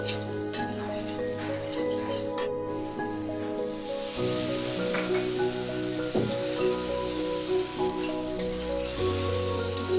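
Spice paste fries in oil for a Bengali koi fish curry, giving a steady sizzle beneath loud background music that plays throughout.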